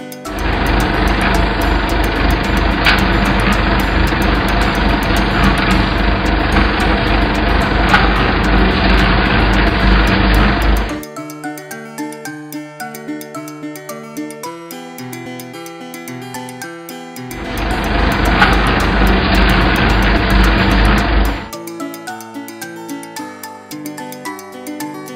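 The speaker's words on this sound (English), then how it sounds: "Combine harvester." A combine harvester engine runs with a loud, steady broadband roar in two long stretches, about eleven seconds and then four seconds, with music playing in the gaps between.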